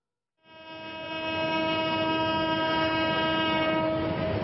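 A train whistle or horn blares as the train departs, one long, loud sustained tone that begins after a short silence and holds steady to the end over a low rumble.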